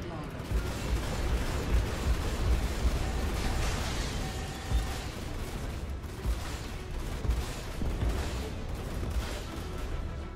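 Missiles fire again and again in a Star Citizen Arena Commander space battle, a dense, rumbling barrage of launches and blasts with constant low thunder and bursts every second or so, and a voice talking over the top.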